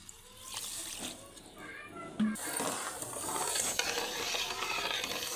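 Two cups of water run steadily into a pan of sugar, a continuous splashing rush with a brief metallic clink partway through.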